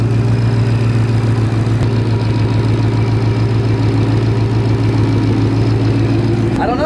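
A supercharged car engine idles close by in a steady, even rumble with a constant whine riding on top, unchanging for the whole stretch.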